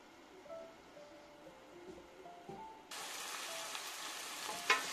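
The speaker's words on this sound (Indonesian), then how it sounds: "Sekarang kita akan menumis rempah-rempahnya." Spices being sautéed in oil for Indonesian soy-sauce chicken: a quiet stretch, then a sudden loud, steady sizzle that fills the rest of the moment.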